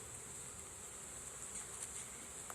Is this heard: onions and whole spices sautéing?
no